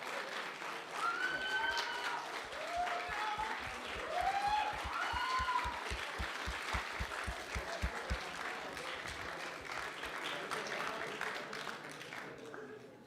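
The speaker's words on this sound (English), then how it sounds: "Big applause again." Loud, sustained clapping from a crowd fills the space, with a few whoops and whistles rising above it before it gradually thins out.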